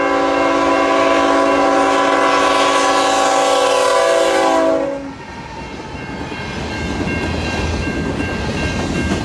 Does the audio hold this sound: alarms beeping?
no